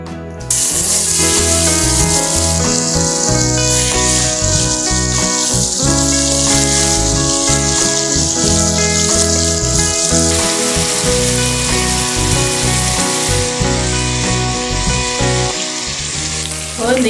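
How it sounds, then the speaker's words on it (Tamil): Soaked prawns drop into hot oil and fry with a loud, steady sizzle and crackle that holds throughout, close up and with no talking. "நம்ம ஊற வச்சுருக்கிற இறாலை நம்ம எண்ணெயில் போட்டு கொஞ்சம் வறுத்துக்கலாம்"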